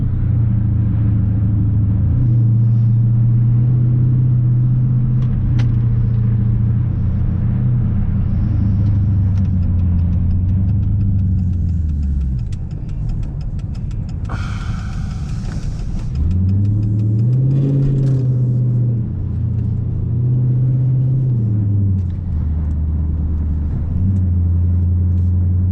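A Dodge Charger SRT-8 V8 engine and exhaust rumble steadily while driving, recorded close at the rear, with deep droning tones that dip and swell as the revs change, loud throughout with no talk.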